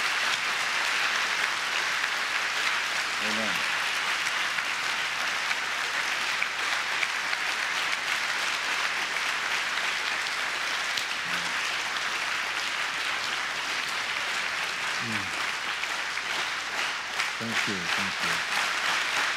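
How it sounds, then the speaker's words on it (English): Sustained applause fills a hall at a youth conference gathering, continuous and full, with a few brief spoken voices breaking through over it. "Give him a round of applause."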